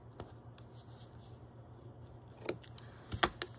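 Scissors trim a paper craft piece for a postcard decorated with fussy-cut figures. A few quiet, close snips and paper rustles are scattered over a faint background hum, with the crispest cuts near the end.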